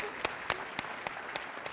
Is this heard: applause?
yes